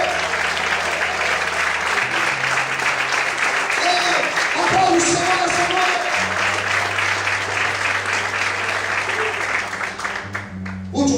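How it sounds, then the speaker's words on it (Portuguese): A church congregation bursts into loud, sustained applause, full and close, while a voice and music carry on underneath before the clapping thins near the end. "Quem concorda comigo, aplauda e exalte a Deus."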